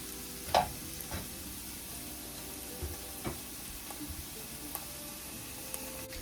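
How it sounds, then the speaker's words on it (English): Western omelet ingredients saute in a skillet on lowered heat, giving a steady soft sizzle with a few sharp utensil clicks and taps scattered through. "I'm gonna go ahead and turn this down. And let it continue sauteing."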